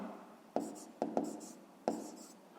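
A hand writes out a fifth-grade maths exercise in quick, scratchy strokes, with several distinct close-up scrawls separated by short pauses and a faint voice under them.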